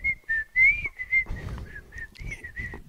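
Someone whistles a melody nearby, short clear notes rising and falling in a lilting phrase, with faint background shuffling.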